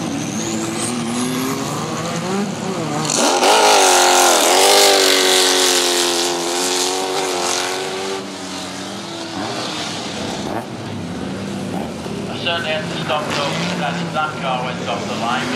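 A Lotus Esprit race car driven by Terry Maynard launches hard off the line at a motorsport event, engine revving loudly and climbing through the gears, then fading as it pulls away while a commentator talks over it.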